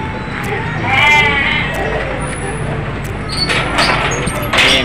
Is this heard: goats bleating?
yes